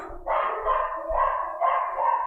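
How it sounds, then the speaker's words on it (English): Several dogs bark in a quick burst of three or four loud, clear woofs, close by and standing alone with no talk over them. "we've got the doggies barking right on cue"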